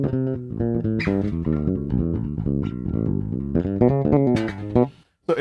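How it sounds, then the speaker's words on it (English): An unmuted bass guitar plays a run of punchier, ringing notes up close, with no voices, before cutting to a brief gap near the end. "So if I didn't palm mute, it would sound like this."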